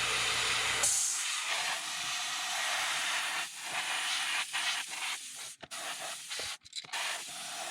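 A paint spray gun running at fairly high pressure during a custom paint job, a loud steady hiss that begins after a short pause and then breaks into uneven bursts and brief cutoffs.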